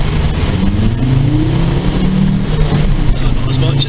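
A boy racer's car accelerates alongside an 18-year-old Volvo estate, giving a steady, loud, close engine roar and road rumble that holds without a break throughout.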